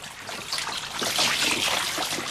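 Running river water trickles and laps steadily, close and moderately loud, with no voices, set on a river where fishermen drag the water in a radio drama set in 15th-century Rome.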